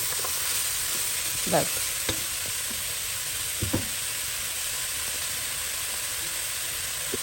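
A chicken dumpling mixture is stirred in a hot pot, with steady sizzling hiss and a few scraping spoon strokes, and a single word spoken briefly.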